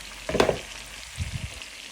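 Pieces of tandoori chicken go into hot oil with a short, loud burst of sizzling, followed by a few soft, low bumps as the frying settles.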